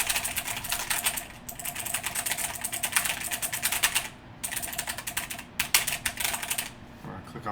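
Rapid typing on a computer keyboard, close and crisp, in bursts of clicking keystrokes separated by short pauses.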